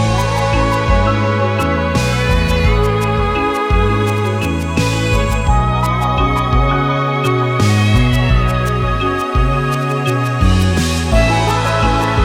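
Final-form void area music from the video game REVITA, a dense layered electronic track with steady pulsing bass, sustained tones and periodic bright swells, loud and continuous with no voices.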